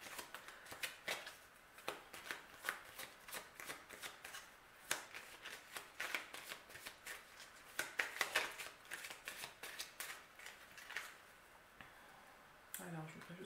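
Tarot cards being shuffled by hand, a quiet steady series of crisp flicking and riffling rustles repeated through the whole stretch, fairly close.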